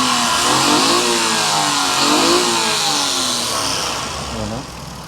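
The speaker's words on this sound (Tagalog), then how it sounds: "Yung makina natin is RO60 engine VVT. 12 valve all aluminum engine." A 12-valve all-aluminum R060 VVT engine in a mini van runs steadily and close by, its pitch rising and falling through a few revs before easing off toward the end.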